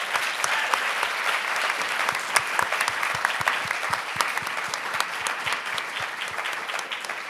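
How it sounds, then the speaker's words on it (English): Audience at an evening event applauding its speakers, a dense, steady round of clapping from many hands that holds at an even level throughout without a voice over it. "Can you please join me in giving them another round of applause?"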